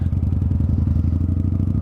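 A motorcycle engine revs up close and loud, a throbbing, steady rumble carrying two riders, with a rapid pulsing beat and no talk over it.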